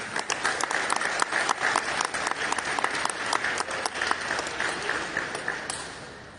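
Sustained audience applause at a ceremony receiving a traditional art and handicraft collection, brisk and fairly loud clapping that holds steady before tapering off at the end.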